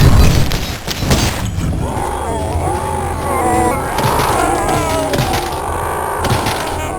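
Explosive barrels and lanterns thrown in the retro shooter Cultic burst into loud booms and shattering crashes, with a dense, rumbling, crackling fire and blast racket continuing throughout.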